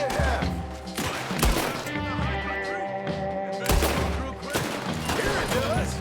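Gunfire in Red Dead Redemption 2, with bursts of shots and heavy booming volleys rattling out in clusters, loud and close, with a voice talking between and over the blasts.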